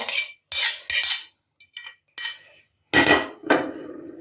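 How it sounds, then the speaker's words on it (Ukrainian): A utensil mixes garlic on a plate, giving a series of sharp, close scraping clinks in irregular bursts with short silent gaps and no voices. "Це все тако перемішаю тут тарілочки."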